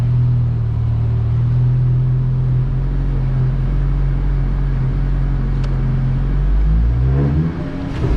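A VW MK6 GTI with an HPA K04 turbo runs on a dyno, a loud, steady engine drone and rumble building toward about 100 mph, continuous throughout with a brief change near the end.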